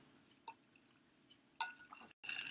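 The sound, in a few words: sipping water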